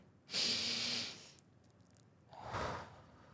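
Two deep breaths: a long, loud inhale followed by a slower exhale, each a broad airy rush close to the listener, with a short quiet gap between them and no talking.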